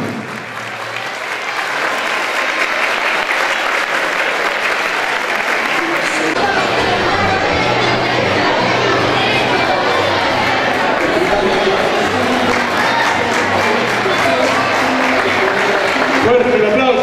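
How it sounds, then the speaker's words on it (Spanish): Audience at a school tradition-day ceremony breaks into loud, sustained applause and cheering for an honoree, dense clapping continuing without a break and a voice talking over it at times. "Fuerte ese aplauso."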